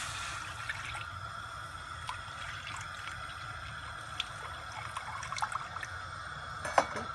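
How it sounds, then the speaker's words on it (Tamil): Tamarind water being poured into a pan on the stove while cooking a banana-flower pitlai gravy, heard as a soft, steady trickle of liquid under a faint kitchen hiss, with a few small clinks near the end. "கடாயை போட்டு இந்த புளித்தண்ணை"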